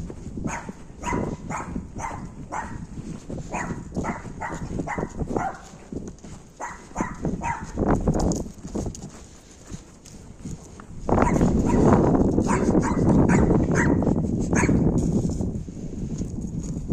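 A small dog barks in quick repeated yaps and whimpers close by, with a louder, denser stretch of noise near the end.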